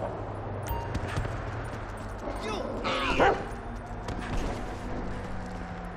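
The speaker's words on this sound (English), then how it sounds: "This right here is one sick, nasty-ass motherfucking dog." Dog barks from the video game GTA 5 rise over a steady background rumble, with a short burst of yelps in the middle amid game noise.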